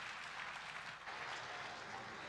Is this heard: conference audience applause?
yes